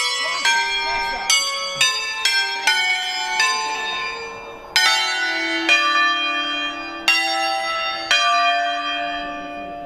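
Six church bells are struck one after another in a rolling sequence, each ringing out with long resonant decay, clear and close, at a bell-ringers' gathering in Cento, Italy.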